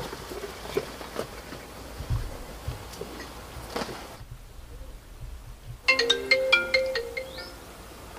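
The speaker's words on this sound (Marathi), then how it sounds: "आबाचा फोन" An incoming call sets a mobile phone ringing: after scattered rustling and a short near-silent gap, a bright melodic ringtone begins close by and plays on to the end.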